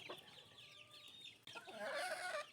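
Chicks clucking and cheeping near a feeding spot where banana pieces have been offered, with bright, busy peeping calls that thicken in the second half.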